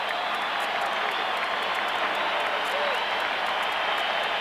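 A baseball stadium crowd at the 1996 Rangers playoff game keeps up a steady roar of cheering and clapping, heard from a distance with a broadcaster talking over it.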